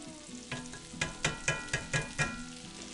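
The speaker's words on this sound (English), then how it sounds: "we're gonna put our nice and dry potatoes in our skillet" Potatoes fry in bacon grease in a cast iron skillet, with a soft steady sizzle and a quick run of metallic scrapes and taps as the pieces are spread out.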